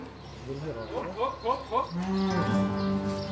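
Cows on a dairy farm moo loudly and close by, first in a series of short rising calls and then in one long, drawn-out low moo that fills the second half.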